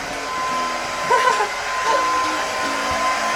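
A hair dryer blows steadily with a constant whirring hum, close and loud, with a slight shift in tone midway.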